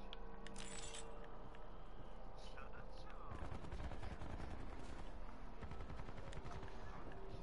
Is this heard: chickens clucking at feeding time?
no